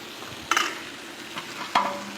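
Food frying in oil in a pan while a simple breakfast cooks: a steady close sizzle fills the clip, with two sharp stirring scrapes near the start and later on.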